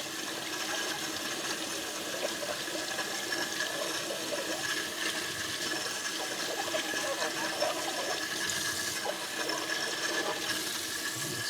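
Warm tap water runs steadily as a laser-engraved glass is rinsed off under it, a continuous close splashing wash with no talking over it.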